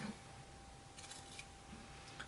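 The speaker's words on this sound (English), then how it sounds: "now I will take actually my bigger scissors, I will put them in and I will cut on the line I've made" Large scissors cut quilting fabric along a marked line, giving a few faint, brief snips in a quiet room.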